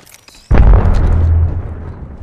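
Arc Star grenade exploding in an Apex Legends battle royale match: one sudden loud boom that decays into a rumbling electric crackle lasting about a second, after faint quieter game sounds.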